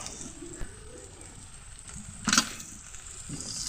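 Chicken sautéing in a pan sizzles softly, with a faint steady hiss broken by a few stirring scrapes and one brief louder burst, heard close up and quiet.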